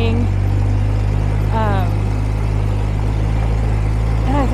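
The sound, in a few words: ATV engine on a mountain trail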